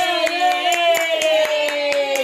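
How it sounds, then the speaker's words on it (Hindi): Claps ring out for a young girl named Kaira, winner of a medal at a family gathering, about nine spaced hand claps over a steady tonal background hum, fairly close and moderately loud. "जोरदार तालियां कायरा बढ़ाने की"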